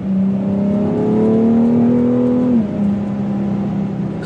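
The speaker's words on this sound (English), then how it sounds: "I've got it in sport mode, I've got the noisy exhaust on" A BMW X3 M or X4 M smooth straight-six engine note climbs steadily through the revs in sport mode through a loud sport exhaust, then drops back to a steady drone; no voices.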